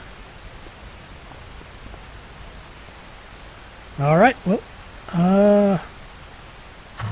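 Steady broadband rain hiss in Farming Simulator 25 runs throughout at a moderate level, with a voice speaking briefly over it near the end.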